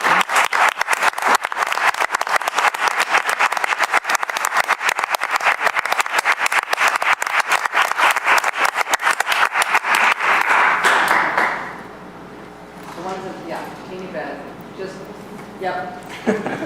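Sustained audience applause fills a city council meeting chamber for a high school student council, dense and steady for about eleven seconds before fading into quieter room noise and voices.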